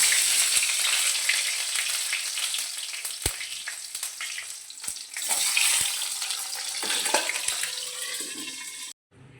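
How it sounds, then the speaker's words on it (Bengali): Eggs fry in mustard oil seasoned with turmeric and salt, a close, crackling sizzle with scattered sharp pops and spits, continuous until a sudden cut near the end. "এরপর এক এক করে ডিমগুলো দিয়ে ভেজে নেব।"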